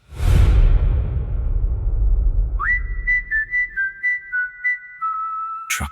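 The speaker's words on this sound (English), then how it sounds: "A whistle, low, distant, human, but not entirely human." Low, eerie whistle on the wind of the Nullarbor, a rushing gust fading out before a single wavering tone begins, pulsing in short repeated bursts and then holding, loud and alone.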